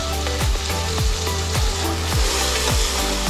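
Ginger, garlic and onion paste fries in hot oil for a pangas fish curry, a loud continuous sizzle with rhythmic scraping strokes of a spoon stirring through the pan.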